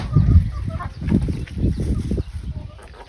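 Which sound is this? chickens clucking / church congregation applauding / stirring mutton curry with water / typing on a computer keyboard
chickens clucking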